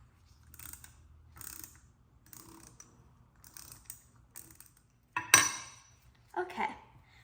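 An 8 mm screw is fastened onto the top of a 1968 Porsche 912 fuel pump. Faint, close ratcheting clicks come in short bursts, followed by a sharper metallic clink and scrape near the end.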